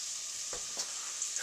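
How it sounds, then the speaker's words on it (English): Risotto ingredients sizzle softly in a pot, a faint, steady hiss with a couple of small stirring clicks and a brief louder tap at the end. "So we add all of our, you can hear the sizzle. Very nice, soft sizzle."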